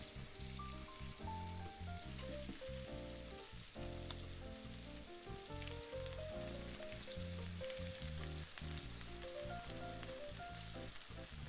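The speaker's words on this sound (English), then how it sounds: "basically fry it on one side until the white comes up to about half the thickness of the fish, and then you turn it over" Fish fillets, purple cod, frying in a pan give off a continuous crackling sizzle with soft clinks under background music throughout, fairly faint overall.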